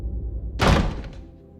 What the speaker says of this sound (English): She disappeared into the house, the door slamming behind her.